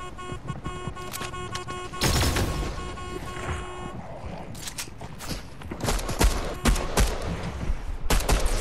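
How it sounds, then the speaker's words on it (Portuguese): Gunfire in the video game Fortnite, including shotgun blasts, sounds as a burst of shots, then scattered loud cracks and sharp pops through the rest, mixed with footsteps and game noise, with no talking. "Quem é que tá atirando?"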